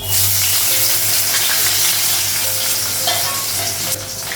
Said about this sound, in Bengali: কড়াইটা গরম হয়ে গেছে। কাঁচা লঙ্কা আর পেঁয়াজটা লাগাবো